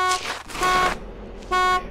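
Car horn in the Arma 2 video game honking three times in a row, loud and close, each blast a bright steady tone with brief gaps between them.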